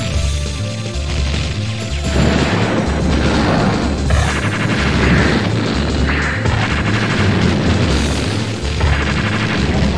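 Retro war shooter game audio: booming explosions and crashing gunfire bursts pile up over a pulsing background music track, loud and continuous, with heavy low thuds repeating every second or two.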